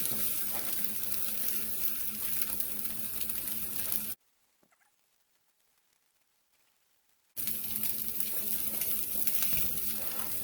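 Scrambled eggs fry in a pan with a steady crackling sizzle that drops out abruptly to near silence midway, then resumes just as loud; no one talks.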